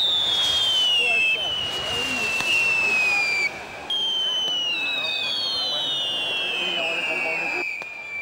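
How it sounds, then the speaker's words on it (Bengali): Fireworks at the Poush Mela fair on the Dakshinpalli fairground in Santiniketan: rockets let out long, overlapping descending whistles with faint pops over a steady crowd murmur, and a voice talks at times. "দক্ষিণপল্লীর মেলা প্রাঙ্গণ ঘিরে আতশবাজি নানা রঙে রঙিন হয়ে ওঠে"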